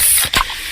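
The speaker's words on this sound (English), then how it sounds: "that's the sound of a freshly opened fizz-filled Pepsi." A freshly opened can of fizzy Pepsi hisses in a short, loud spray-like burst with a sharper pop midway, alone with no talking.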